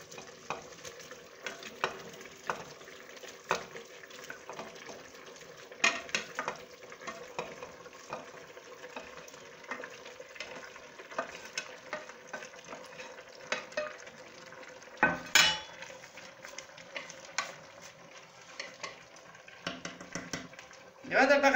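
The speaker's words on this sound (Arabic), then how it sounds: "ومن بعد يطيب شويه، طيب شويه البصله" Chopped onion sizzles steadily in a hot pan while a spoon stirs and scrapes at intervals, close and fairly quiet, with occasional louder clatters and a voice at times.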